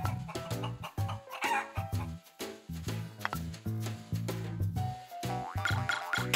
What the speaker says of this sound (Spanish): ¡Tarán! Pollo.